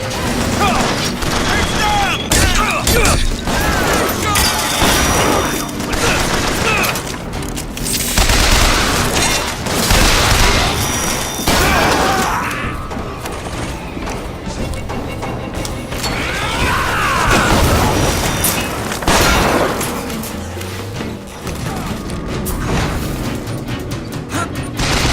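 Rocket explosions in BioShock Infinite go off in a long, dense sequence of booms and crashes mixed with mechanical clatter and gunfire, loud throughout, with a voice speaking briefly among them.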